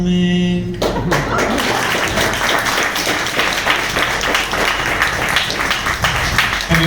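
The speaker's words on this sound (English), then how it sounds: "Have a big round of applause." Audience applause at a comic con meet-up, loud continuous clapping from a crowd that breaks in abruptly after a brief tone and carries on steadily to the end.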